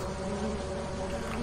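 Bees from the Lethal Company video game give off a steady, faint insect buzz, a low continuous drone with no talk over it.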